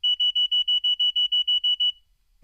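A rapid series of about twelve high, piercing electronic beeps in even rhythm, then silence; a snooze alarm going off close by.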